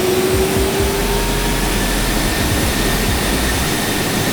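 Simulated airliner jet engines spooling up in X-Plane 11 on a Southwest Airlines jet at Los Angeles, a loud, steady broadband roar with a faint rising whine, no voices.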